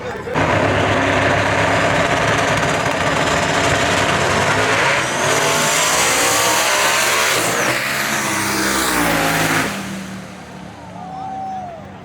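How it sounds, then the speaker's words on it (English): Fast street car launching down an eighth-mile drag strip, a loud sustained engine roar with tire squeal that climbs in pitch then fades as the car pulls away, with crowd voices faintly underneath. "That is a very fast car."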